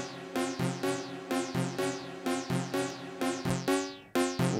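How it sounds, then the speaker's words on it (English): A synth tone from the snare channel's dual VCO oscillator on an Analog Rhythm drum machine repeats as a steady series of sharp, pitched, decaying hits, clear and alone. "So it's going to be producing like a synth tone that sounds something like this."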